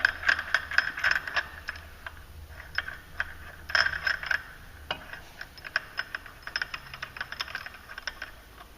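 A bolt is unthreaded from a 2009-10 Ski-Doo QRS-style clutch, producing bursts of quick, close metallic ratchet clicks that stop and start in a steady rhythm.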